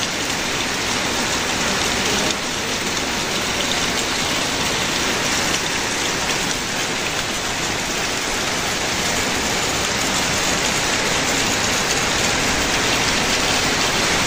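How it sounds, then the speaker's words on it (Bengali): Heavy rain pours down steadily, a dense, continuous hiss with no voices or pauses throughout. "বৃষ্টি খুব জোরে হচ্ছে"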